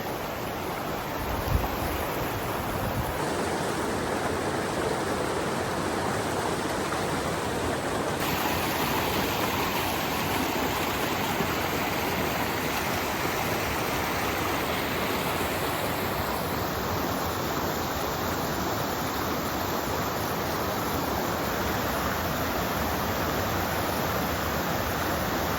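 The North St. Vrain mountain creek in Rocky Mountain National Park's Wild Basin rushes steadily with a broad, continuous watery roar, close and unbroken, with no voices.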